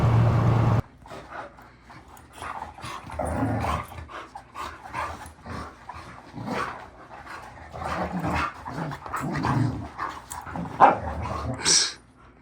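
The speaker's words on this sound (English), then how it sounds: "What are you guys doing, crazy dogs? Huh? You guys play rough." Dogs play rough together, barking, yipping, growling and whimpering in close, busy bursts, with a voice faintly mixed in.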